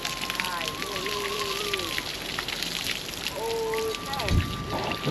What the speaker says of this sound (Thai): โอ้ฟ้าดังหึมฝนตกเลย